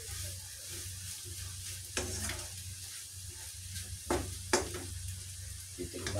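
A bitter gourd mixture with onion and vinegar being stirred in a pot, with a low steady hiss under the mixing and a few sharp utensil scrapes and clacks against the container.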